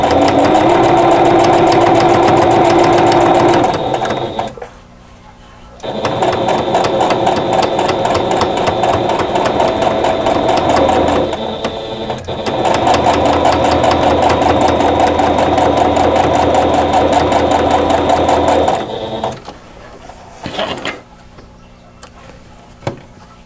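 A sewing machine stitches the seams of a patchwork quilt block in long steady runs of rapid mechanical whirring and ticking, stopping and restarting a few times, loud and close with no talking.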